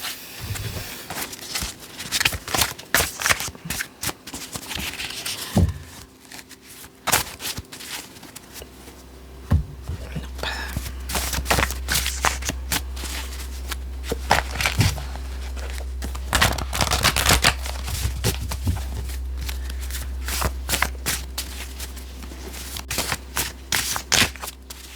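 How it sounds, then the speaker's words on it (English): Tarot cards being shuffled by hand, an irregular run of crisp riffles, slaps and papery crinkles close to the microphone, with a low hum in the background. "I've been having to shuffle this for a bit."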